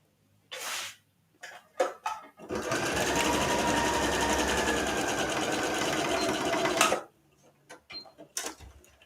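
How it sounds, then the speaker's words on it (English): Sewing machine running a steady zigzag stitch across elastic on beginner pajama pants, a loud continuous mechanical whir lasting several seconds, with short bursts of stitching and handling before and after. "use your zigzag stitch again and just stitch across the elastic"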